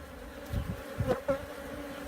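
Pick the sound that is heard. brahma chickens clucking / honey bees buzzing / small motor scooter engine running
honey bees buzzing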